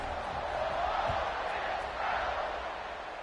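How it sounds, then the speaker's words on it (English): Stadium crowd in College Football 26 roars in a steady, broad wash of cheering that swells slightly midway, with a faint voice surfacing under the noise. "this crowd is feeling themselves after that last drive"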